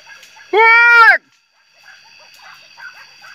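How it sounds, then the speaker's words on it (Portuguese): Hunting dogs tracking a scent give a single loud, drawn-out baying yelp, followed by faint, scattered distant sounds over a quiet background. "Lá no faro aqui já deram uns latidos ali"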